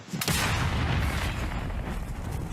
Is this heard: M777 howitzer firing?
yes